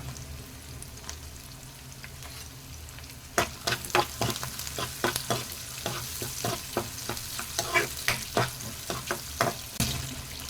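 Green chillies sautéing in hot oil for rava kichadi, a steady soft sizzle broken by repeated sharp scraping taps of a spoon stirring in the pan, close and fairly quiet with no talking.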